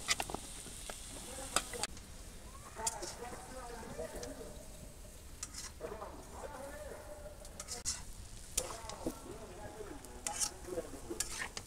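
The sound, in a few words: water and vegetable curry added to a hot pan, sizzling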